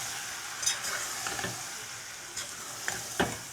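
Spice masala of red chilli powder, cumin-coriander powder and turmeric being stirred in a frying pan for paneer tikka masala, with a soft steady sizzle and a few sharp scrapes of the spoon against the pan.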